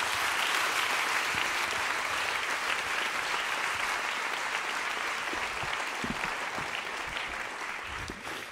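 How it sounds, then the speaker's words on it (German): A crowd at a poetry slam in the Roxy in Ulm applauds loudly and continuously, a dense roar of many hands that holds strong and fades slightly toward the end. "Applaus bitte für Sebastian Butte!"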